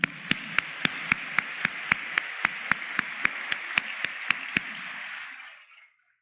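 Applause of solidarity sounds as a steady, evenly spaced run of about eighteen sharp claps in a regular rhythm, close and distinct over a low background hum, then fades to silence.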